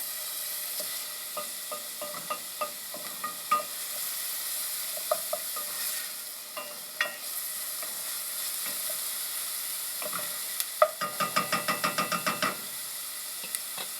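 Softening vegetables for quick pickles sizzle in a pan while a utensil stirs them, with scattered clicks and knocks and then a quick run of rapid taps near the end. No one speaks.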